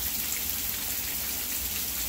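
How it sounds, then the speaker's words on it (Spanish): Heavy rain pours outside a house north of Houston, Texas, a constant, even hiss of drops hitting surfaces that holds steady throughout with no talking. "¿A quién más le gusta la lluvia, amigo?"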